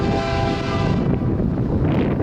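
A passing freight train led by a GE Evolution (Gevo) locomotive, a loud, close, steady rumble and roar with heavy wind buffeting the microphone throughout.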